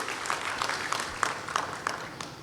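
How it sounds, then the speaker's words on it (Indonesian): Congregation applause at a church service, a fairly quiet stretch of scattered, distinct handclaps with a loose rhythm, heard from some distance. "Beri tepuk tangan yang meriah"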